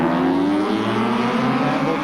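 Racing motorcycles at a 1984 Swan series road race roar past in a loud, continuous engine drone with a steady pitch shift, with race commentary heard over it.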